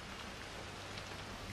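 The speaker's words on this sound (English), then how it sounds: "I'm never going out in the rain again." Steady rain in the video game Hitman 3, a dense, even hiss of falling water that fills the whole moment with no other sounds standing out.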